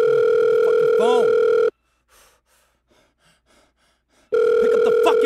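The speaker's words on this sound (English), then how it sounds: "Pick up the fucking phone." A telephone tone holds loud and steady, drops away to near-silence with faint breathing, then returns just as loud.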